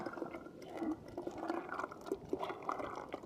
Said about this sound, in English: Double strainer. So we gotta scrape it. Get the juice out of it.